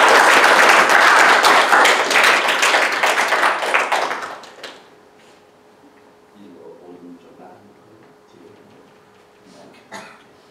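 Church congregation applause at a Sunday service, loud dense clapping for about four seconds that fades out, followed by quiet room murmur and scattered soft sounds.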